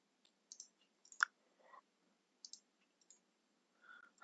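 Computer mouse clicks during a ServiceNow update set tool demonstration, a handful of sharp, quiet clicks scattered irregularly with short gaps and no talking.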